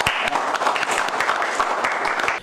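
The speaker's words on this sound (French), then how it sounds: "Et on peut quand même applaudir." An audience at a news event applauds in a dense, continuous burst of clapping that stays loud and even for a couple of seconds before cutting off abruptly.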